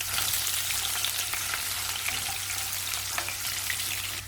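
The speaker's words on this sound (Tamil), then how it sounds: "ஒரு நாலு பல் பூண்டு பொடியாக நறுக்கி சேர்த்துக்கிறேன்" Finely chopped garlic fries in sesame oil in a kadai with onion, mustard seeds and urad dal, giving a loud, steady, close sizzle with crackling pops throughout.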